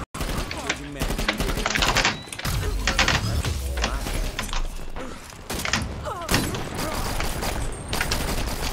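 Rapid, sustained gunfire from a gatling gun in a multiplayer shooter match with domination objectives, loud and dense across the whole stretch with brief gaps, mixed with game effects and mechanical clatter.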